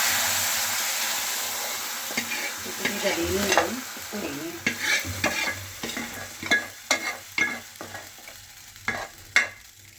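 Masala gets stirred into khichdi in a pot on a gas stove, with repeated scraping spoon strokes and soft sizzling, close and clear, louder toward the end, with no voices.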